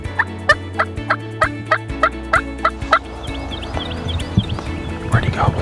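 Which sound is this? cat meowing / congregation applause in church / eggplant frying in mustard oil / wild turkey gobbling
wild turkey gobbling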